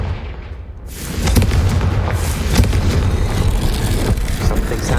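A Confringo explosion spell in Hogwarts Legacy bursts with a loud booming blast that rolls into a sustained roaring, crackling rumble lasting several seconds, close and dominant.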